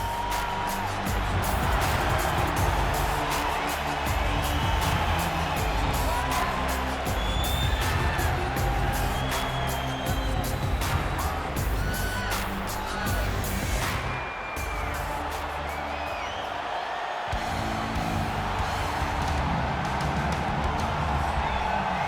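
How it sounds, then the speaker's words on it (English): An arena crowd in the UFC 4 video game cheers and roars loudly and continuously, whoops rising and falling over a dense wash of noise for the whole stretch, with a brief dip near the middle. "Crowd going crazy."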